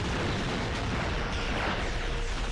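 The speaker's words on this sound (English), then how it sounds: "I'm gonna let you watch a little bit of the explosions" Dense, continuous explosions rumble in a video game battle, a loud, heavy barrage of overlapping booms and blasts with no gaps or voices.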